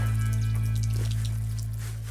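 Water runs steadily from a well spigot in Nairiri into a 5-gallon drum, a close, continuous splashing flow with a low hum underneath, fading slightly toward the end.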